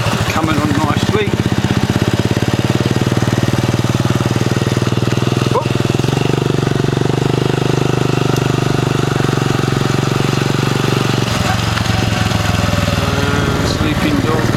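A motorbike engine runs steadily throughout, a low droning putter that holds close and loud, with brief voices and dog noises breaking in near the start.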